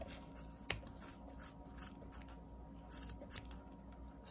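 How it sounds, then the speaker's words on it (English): Small scissors snip the yarn ends of a crocheted snowman ornament, a series of faint, crisp clicks and snips close by in a quiet room. "So you're going to cut the ends,"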